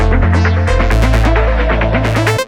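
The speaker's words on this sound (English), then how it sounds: "Especially when you have an arp like this, which is moving all across different octaves" A synth arpeggio jumps across octaves in a rave breakbeat track, with notes gliding into one another and a slight vibrato over a loud, sustained bass tone, continuous and upfront.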